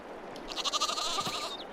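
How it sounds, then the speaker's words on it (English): Lambs bleat in a farm pen in the video game Farming Simulator 22, several quavering high cries overlapping in quick succession at close range, with no talking. "Oh, look at the little lambs."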